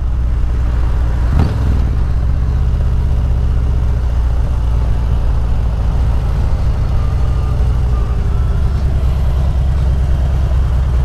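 A Harley-Davidson motorcycle engine runs steadily at idle nearby, a low continuous rumble with a brief knock early on and no backfires.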